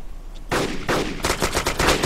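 Rapid bursts of automatic gunfire in the DayZ survival game erupt after a brief quiet start, loud and close, with fast repeated shots stacking into a dense rattling volley.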